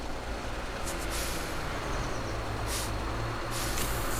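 A truck's air brake hisses in Alaskan Road Truckers, with short bright bursts of air release over a steady engine idle rumble.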